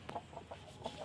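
A hen clucking at a backyard coop, a few short, distinct clucks in an irregular rhythm, close and moderately loud over faint room background.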